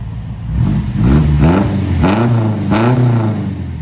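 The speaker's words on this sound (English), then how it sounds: "Got a little glass pack in there. Gonna be a little louder, a little throatier. Oh, so excited. Give her a rev." A Ford Anglia with a swapped engine and a new glass pack exhaust revs hard about four times in quick succession, each loud, throaty blip rising and falling close by with no talking.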